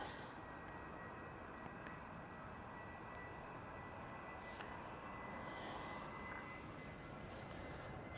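A jet airliner accelerates down the runway at Manchester Airport on a short positioning flight to East Midlands, its engine roar a steady, broad, fairly distant rumble that holds level throughout with no one talking.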